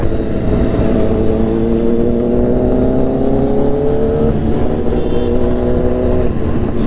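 Superbikes such as a Daytona 675, ZX10R and Z900 rev hard and roar past at a track day, a loud continuous engine drone with rising pitch sweeps and overlapping passes, no talking.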